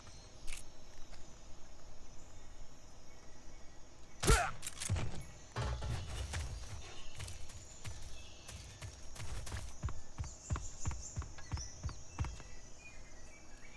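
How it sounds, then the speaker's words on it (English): Footsteps in Metal Gear Solid 2: Sons of Liberty: a sharp impact, then a run of soft, irregular steps over a faint, steady ambient hum, close and fairly quiet, with no voices. "I hear more footsteps."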